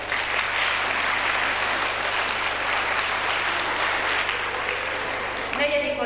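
Pupils and guests at a 1997 school Christmas program in Cibakháza applaud a pupil, a steady roomful of clapping under a low hum, with a voice starting just at the end.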